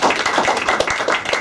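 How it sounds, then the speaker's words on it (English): Audience applause after an academic presentation on Indonesians' perceptions of inequality, a steady patter of clapping hands from a room of listeners, moderately loud and continuous. "give applause to Chris"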